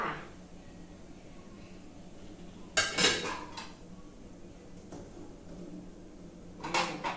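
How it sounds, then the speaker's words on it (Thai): Eggs are set into two metal pots for boiling, with two brief clinking clatters a few seconds apart, over a quiet, steady background hum. "เดี๋ยวเราจะเตรียมเอาไข่ ลงหม้อทั้งสองใบแล้วนะคะ"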